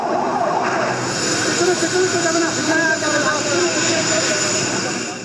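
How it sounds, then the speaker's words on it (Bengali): A special air force helicopter flies in to rescue casualties during a security drill ahead of a T20 World Cup match in Sylhet. Its loud, steady roar runs throughout, with siren-like wailing tones and some voices underneath. "হতাহতদের উদ্ধারে উড়ে আসে বিমান বাহিনীর একটি বিশেষ হেলিকপ্টার"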